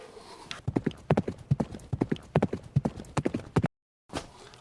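Horse hooves clip-clop in a steady, brisk rhythm, loud and close, followed by a short whinny after a brief silence; the horse appears alongside a 1/6 scale Arthur Morgan gunslinger action figure.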